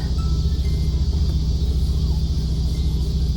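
Steady low road rumble and rushing air fill the cabin of a moving car driving with its windows down, continuous and fairly loud with no talk.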